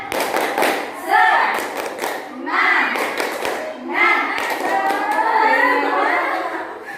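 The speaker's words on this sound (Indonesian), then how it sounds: "kita tepuk semangat dulu ya" Schoolchildren in a classroom stand and do a rhythmic spirit clap, with bursts of patterned clapping and thumps mixed with their chanting voices.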